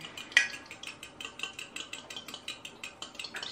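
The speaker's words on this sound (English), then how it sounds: "I just like to stab it through the yolk first, and then just kind of whisk it" Eggs whisked in a bowl with a fork, the yolks stabbed first, giving a steady run of quick light clicking strokes close by, with no talking.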